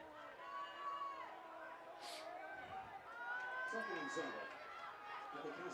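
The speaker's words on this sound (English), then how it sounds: "Crowd still buzzing over here on the Cub side." Crowd buzzing in the stands at a Monett Cubs versus Cassville high school football game, a steady murmur of many distant voices with occasional louder calls and whoops.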